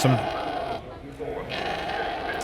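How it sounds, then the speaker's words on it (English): A British Rouge ram bleats loudly at a sheep show, a close call at the start followed by crowd noise and someone commentating. "there's a very noisy British Rouge behind me"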